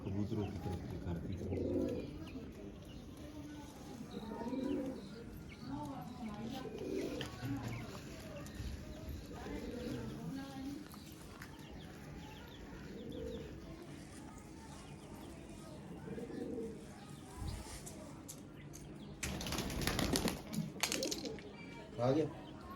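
Pigeons coo softly in a quiet setting, a series of low rounded calls repeating every few seconds, with people talking now and then in between.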